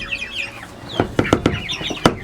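Chickens and chicks peck and cluck at freshly scattered feed, with high chick peeps overlapping soft clucks and a few sharp taps and thumps close by.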